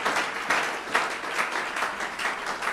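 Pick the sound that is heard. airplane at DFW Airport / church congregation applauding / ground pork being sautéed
church congregation applauding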